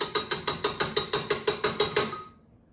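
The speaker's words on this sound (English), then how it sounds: "We're gonna blend that together for about a minute" A stand mixer blends cookie dough with orange zest for Christmas cookies, giving a steady run of about fourteen evenly spaced rhythmic clicks or whirring pulses, close and fairly loud, which stop near the end and leave near silence.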